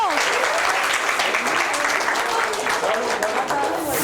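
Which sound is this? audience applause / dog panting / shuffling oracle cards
audience applause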